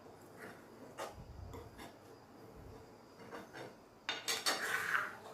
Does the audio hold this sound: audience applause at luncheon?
no